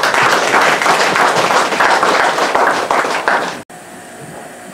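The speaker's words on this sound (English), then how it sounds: "Give them a round of applause." At a police award ceremony, a room full of people gives a loud, sustained round of applause that cuts off abruptly, leaving a quiet room tone.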